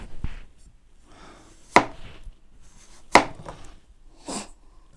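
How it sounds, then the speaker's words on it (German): A PAUDIN chef's knife with a 20 cm blade cuts through soft food on a board, making two sharp, distinct chops and a fainter scrape near the end, with quiet gaps between them and no talking. "Oh, gleich ins Plastik geschnitten."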